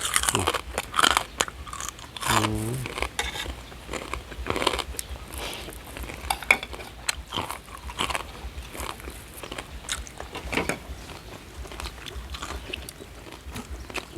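Close, crisp crunching and chewing of Thai khanom jeen salad with stink beans, eaten with freshly fried crispy pork, heard as irregular bites and mouth sounds throughout with no talking.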